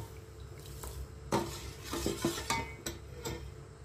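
A spoon stirs sugar and water in a metal pot on a gas stove, with uneven scraping and clinking strokes at close range, the pot faintly bubbling underneath.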